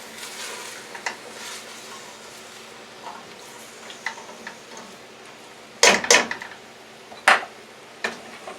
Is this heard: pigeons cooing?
no